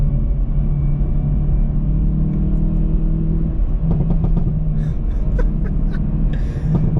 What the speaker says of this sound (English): Stock exhaust.